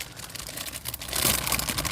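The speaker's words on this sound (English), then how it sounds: "Let's open the plastic bag here, which is already open." A plastic bag holding the sprues of a 1/72 scale KP MiG-21MF model kit crinkles and rustles close up as it is handled and opened, briefly and alone.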